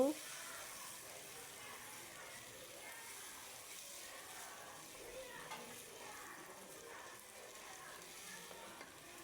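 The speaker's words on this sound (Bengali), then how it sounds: "চালটা দিয়ে আমি কিছুক্ষণ ভেজে নিব" Washed rice for pulao frying in a pan, a steady low sizzle and faint stirring that carries evenly at moderate level throughout, with no voices.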